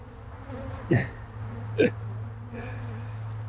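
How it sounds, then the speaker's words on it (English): Agitated honey bees buzz in a steady low drone inside an opened urban backyard hive during a first spring check. Two brief sharp sounds cut through the hum, and no one speaks. "The bees are ticked."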